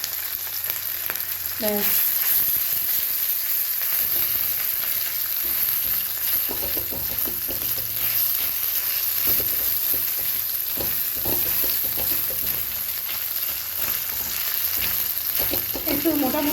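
Ginger added to hot oil after a five-spice tempering sizzles and spits steadily throughout, with occasional stirring clatter and a brief word spoken near the end.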